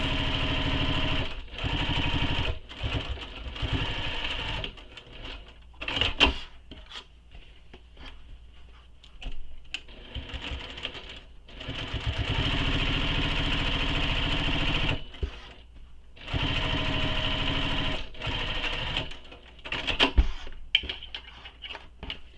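A sewing machine runs in long bursts while top stitching fabric across a handmade travel bag, each whirring stretch broken by short pauses, loud and close.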